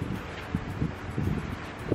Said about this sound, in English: this is probably that wind